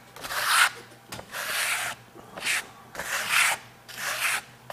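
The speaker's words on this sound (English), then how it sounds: "You hear it scraping?" Trowel scraping thick Venetian plaster containing aggregate across a wall, a series of close, gritty rasping strokes in an uneven rhythm with short gaps between them.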